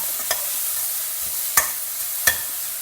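Grated raw mango being stir-fried in a kadai with ginger: faint low sizzle under three sharp scraping stirs of the spoon against the pan, spaced irregularly.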